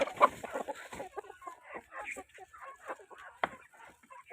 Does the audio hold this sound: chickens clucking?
yes